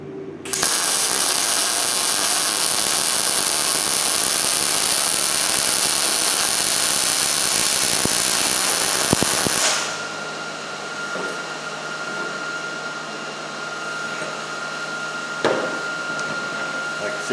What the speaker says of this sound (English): We'll weld her down.